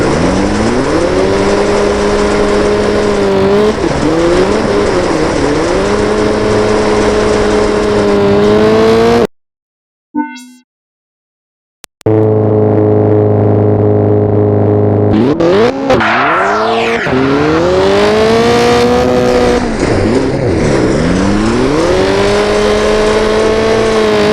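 A rally car in Richard Burns Rally revs hard through the gears, its engine note climbing and dropping as it accelerates and slides. The loud engine cuts out briefly partway through, then returns with rising revs.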